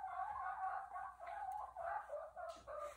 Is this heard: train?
no